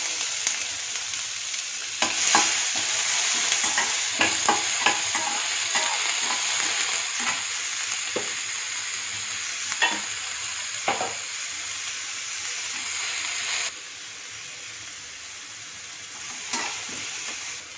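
Finely chopped small onions fry in a pan for beetroot upma, with a continuous bright sizzle and occasional stirring scrapes close by; the sizzle drops noticeably quieter near the end.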